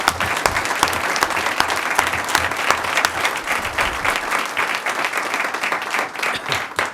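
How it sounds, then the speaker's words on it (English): Audience at a school board meeting applauding school staff: dense, sustained clapping from many people, loud and fairly even throughout, with no talking over it. "So a round of applause for that staff."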